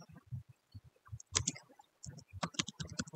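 Keys tapping on a computer keyboard while commands are entered into a network switch's configuration terminal, in irregular bursts of close, crisp clicks with a sharp louder stroke around the middle and a busier flurry toward the end.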